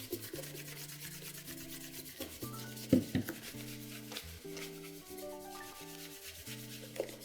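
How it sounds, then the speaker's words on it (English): A chamois cloth briskly buffs wax polish on Berluti leather dress shoes, giving quick repeated rubbing strokes that sit close and fairly soft over a faint musical background. "we want to do this quite briskly because the heat that you generate with the chamois is what's going to help seal the wax to close those pores"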